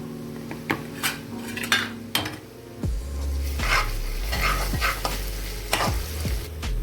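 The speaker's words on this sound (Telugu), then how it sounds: "ఆనియన్స్ అన్నీ ఫ్రై అయ్యాయి కదా, దాంట్లోకి అల్లం వెల్లుల్లి పేస్ట్ యాడ్ చేస్తున్నాను." Onions frying in oil in a pan as ginger garlic paste is added, with close metallic spoon scrapes and clanks over a loud, steady sizzle that swells after the paste goes in.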